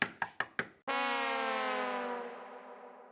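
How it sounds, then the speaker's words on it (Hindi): Four sharp knocks on a door in quick succession, followed by a loud sustained harmonic tone like a siren or doorbell chime that slowly fades, in a comedy TV sitcom scene. "भिड़े अंकल दरवाजा खोलो।"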